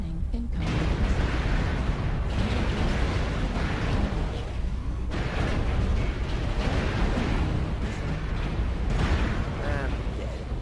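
A missile strike explodes in a Piranha Games mech combat game, a sustained roaring blast with heavy low rumble and crackling debris that stays loud throughout, amid continuous battle noise and an automated warning voice.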